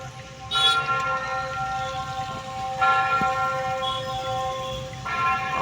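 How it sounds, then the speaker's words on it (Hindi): The Ghanta Ghar clock tower bell rings at the busy chowk in Dehradun, three loud resonant strikes about two and a half seconds apart, each leaving a long humming decay over the street noise. "और ये है घंटाघर चौक। घंटा भी बज गया,"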